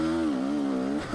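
A 2022 KTM 300 XC-W fuel-injected two-stroke dirt bike on a trail, its engine holding a steady, buzzy drone close by for a brief moment, with a slight dip in pitch and no speech.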